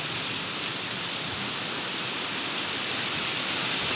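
A heavy evening rain falls in a dense, unbroken hiss that holds at the same loudness throughout, with no voices over it.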